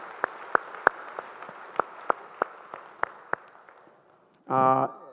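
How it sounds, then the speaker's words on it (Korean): Scattered claps from a church congregation at a Sunday service ring out at a slow, even pace for about four seconds, fading near the end before a short sustained voice rises alone. "영광의 박수 올리겠습니다"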